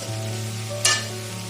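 Yam dry roast masala frying in a pan with a little water mixed in, a steady close sizzle with one sharp hiss burst partway through, over a low hum.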